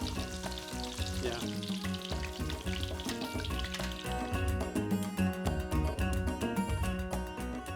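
Schnitzel fries in a pan with a busy, bubbling sizzle that runs through the whole stretch, with tonal, music-like sounds layered over it.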